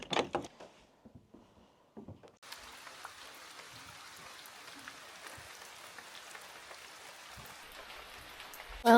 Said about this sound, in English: it's raining pretty hard at this point